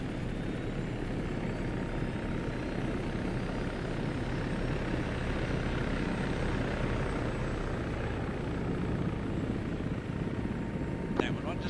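Attack helicopter in a combat video game, its rotor and engine roaring as a steady, loud broadband drone throughout, a damaged tail rotor noted, with radio-style voices speaking over it.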